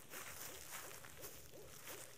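A bird calling in a video game with repeated soft hooting notes, about four in steady rhythm over a continuous hiss, faint and slightly distant.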